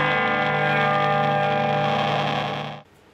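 Madbean Aquaboy analog delay pedal being calibrated, producing a sustained, heavily distorted buzzing tone with layered harmonics and slight chorus-like wobble, loud and steady before cutting off abruptly near the end.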